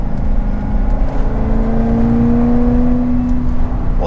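A supercharged C6 Corvette ZR1 engine pulls along a mountain road, a loud steady drone with a rising whine as it accelerates, continuous and close throughout with no talking.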